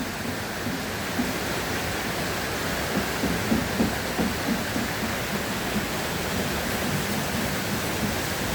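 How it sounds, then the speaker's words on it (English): River water rushes steadily past a turning water wheel below a waterfall, a dense continuous roar with faint rhythmic churning, no voices. "The power of the water turning this wheel."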